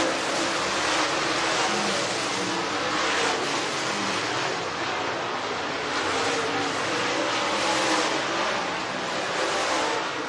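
Super Late Model dirt race cars roar around the track at the Ice Bowl, their engines blending into a dense, continuous distant drone that swells and recedes gently as the pack circulates.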